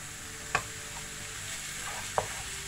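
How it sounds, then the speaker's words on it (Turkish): Leek filling sautéing in a pan sizzles quietly and steadily up close, broken by a few sharp clicks of a utensil stirring against the pan. "Şimdi bunu böyle tekrar karıştırıp soteleyelim."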